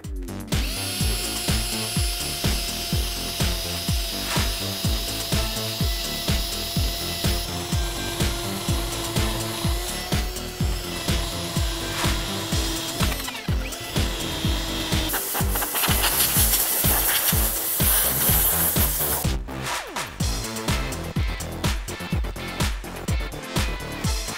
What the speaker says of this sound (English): We're gonna use this rubber eraser wheel to get this off.